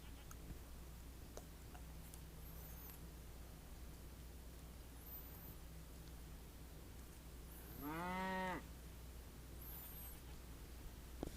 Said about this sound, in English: Got some cows, some sheeps,